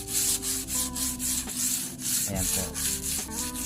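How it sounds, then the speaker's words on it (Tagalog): Rhythmic, steady rubbing strokes of 240-grit sandpaper sanding old varnish off plywood, close and continuous, with a brief spoken phrase partway through. "So lilihain po natin itong ating varnish"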